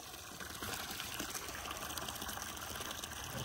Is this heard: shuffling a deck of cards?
no